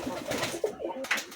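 Pigeons on a farm coo in a few short, soft, close calls, spaced unevenly across a brief moment.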